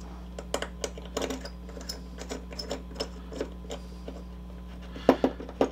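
Small metal screws being driven to fix a holster plate onto the left side of a Sony Alpha A7R III camera bracket, giving a string of light ticking clicks with a few sharper knocks near the end over a steady low hum.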